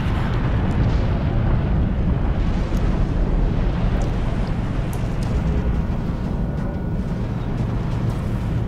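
Torpedo explosion in the naval combat video game Dreadnought, a deep continuous roaring rumble with broad noise sustained loudly throughout, no pauses or speech.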